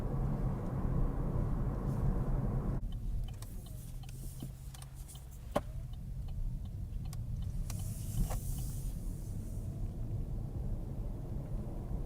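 A quiet car drives in gasoline mode along a winding road, giving a soft, steady low rumble with occasional faint ticks and a brief switch in cabin sound partway through.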